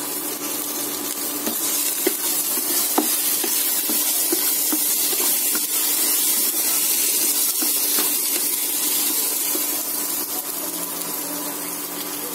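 Curry leaves, chopped small, crackle and sizzle steadily in hot oil for a Himachali curry of arvi, kachalu and beju, a dense frying hiss with scattered sharp pops throughout.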